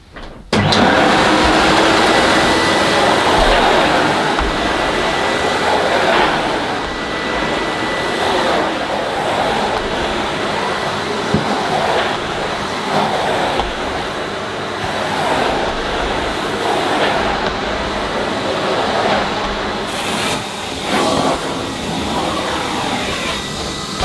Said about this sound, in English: I've got to connect the hose to the suction inlet and then vacuum up all the mess